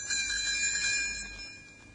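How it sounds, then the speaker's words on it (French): Bright, high-pitched tinkling of small fairy bells, ringing steadily and then fading away, with no voices. "Elle fera tinter ses petites cloches, comme ceci."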